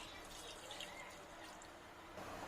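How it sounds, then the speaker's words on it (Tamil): Cold water is poured onto boiled soya chunks in a home kitchen, making a steady, continuous splashing rush that runs the whole time at moderate loudness. "இப்போ பச்சை தண்ணி கொஞ்சம் ஊற்றிடலாம்."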